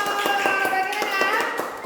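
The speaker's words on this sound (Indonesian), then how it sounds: "Oke, tepuk tangan dong." A classroom audience claps hands after a group presentation, a brief run of fairly even, moderately loud claps at a steady rhythm, with talking alongside.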